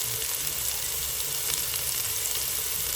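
Chopped onion, carrot and celery sauté in a pot for a soup, a loud, dense, unbroken sizzle filling the whole stretch up close, with no voices.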